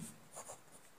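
A pen scratching on paper or a board in a short burst of quick, faint strokes, a few soft scrapes with no speech.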